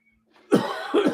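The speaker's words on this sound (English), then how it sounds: "as I'm still coughing and wheezing and sneezing and spitting and sputtering" A person with a lingering illness coughs twice in quick succession, close and loud, each harsh burst following a faint breathy lead-in.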